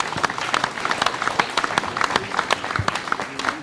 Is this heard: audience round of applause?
yes